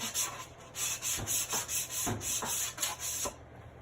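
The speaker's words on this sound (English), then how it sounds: "I'm just sanding the edges to make it a little more rustic" Rhythmic rubbing of sandpaper against wooden edges, a steady series of scratchy strokes close by with no talking.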